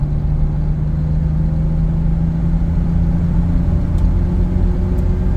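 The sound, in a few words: Jeep Cherokee 4.0L engine running smoothly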